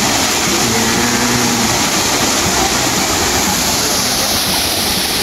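A waterfall at Mt. Tigurang in Igbaras, Iloilo sends up a steady, close, full roar of falling water, unbroken and loud from start to finish with no voices.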